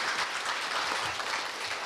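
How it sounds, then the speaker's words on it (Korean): Steady applause from a lecture audience at a Korea University guest talk, dense and continuous for a couple of seconds with no talking. "박수 부탁드리겠습니다."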